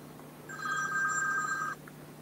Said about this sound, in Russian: Секунду, мне звонит.